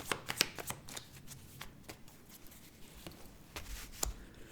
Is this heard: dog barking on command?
no